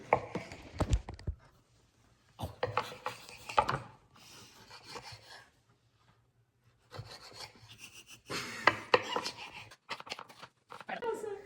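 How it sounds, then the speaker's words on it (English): A knife cutting up tomatoes for sauce, heard as several separate runs of rasping, scraping strokes with quiet gaps between them, close-up, with a voice speaking at times. "we're gonna cut up tomatoes to make the sauce"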